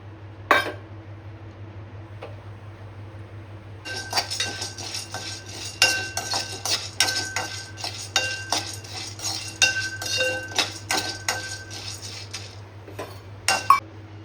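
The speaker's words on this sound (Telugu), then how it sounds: "ఈ లడ్డూలలో పంకిన్ సీడ్స్ వేసుకోవాలండి. దానికోసం ఇవి లైట్గా ఫ్రై చేయండి." Pumpkin seeds being lightly fried and stirred in a pan for coconut laddus, heard as a busy run of metallic clinks and scrapes from a spoon against the pan, starting after a quiet opening, over a steady low hum.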